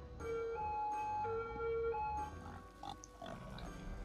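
Pigs on a burning farm in the Cities Skylines video game, a sustained tonal squealing with a steady underlying hum running for a few seconds, then a busier, scattered stretch of higher chirps and rustles.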